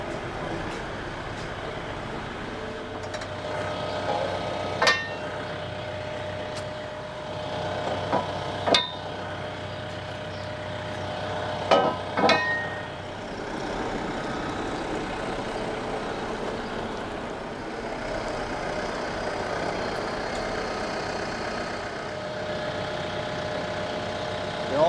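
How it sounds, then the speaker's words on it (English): A tractor-mounted post driver pounding steel pipe posts into the ground, with a steady tractor engine drone throughout and a few sharp metallic impacts standing out over it, some in quick pairs. "We're just going to take these pipes and drive them in the ground."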